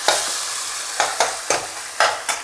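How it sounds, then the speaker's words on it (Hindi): Spice masala with finely chopped tomatoes frying in a pan, a loud continuous sizzle broken by a regular series of sharp stirring scrapes, about five in quick rhythm, with no talking. "अब हम मसाले को अच्छी तरह से भूनेंगे"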